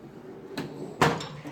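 Bottom drawer of a Harbor Freight US General metal tool cart sliding open, two short rattling scrapes close by against a quiet room.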